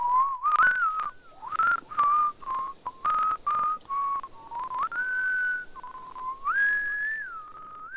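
Someone whistles a wandering melody up close in the video game Powerwash Simulator, clear tones in short phrases with brief pauses, some notes sliding and warbling.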